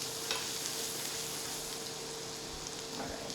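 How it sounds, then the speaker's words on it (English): Celery, onion and garlic sizzle steadily in a hot pan, a dense crackling fry with occasional stirring scrapes, moderately quiet and with no voices. "let's just saute them for a minute"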